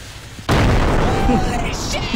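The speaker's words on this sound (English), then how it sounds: "it's throwing a grenade!" Grenade explosion in Content Warning, a sudden loud blast that holds as a sustained roaring rumble and crackle, with faint tonal game sounds behind and voices around it.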